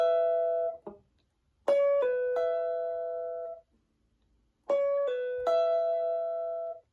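Electric guitar plays the closing phrase of a song's solo: a few sustained, ringing notes with pauses between, one short bent note early on, close and clear with no talking.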